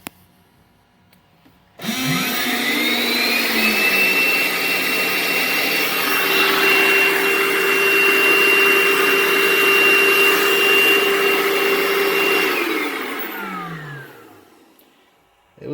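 A vacuum cleaner powered by a Suaoki 400W lithium solar generator switches on abruptly, whines loudly and steadily for about eleven seconds, then spins down with a falling pitch, with no talking.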